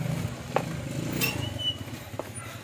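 A Kawasaki Barako 175 motorcycle on a long road trip toward Dingalan, Aurora, its engine giving a faint, steady low chug with a couple of light clicks and clatters.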